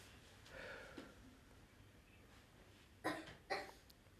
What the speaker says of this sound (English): Baby's coughing.